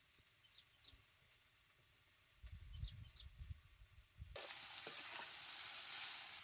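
Capsicum peppers fry in oil. Early on, faint bird chirps and a low rumble are heard, then a loud, steady sizzling hiss starts abruptly and continues to the end.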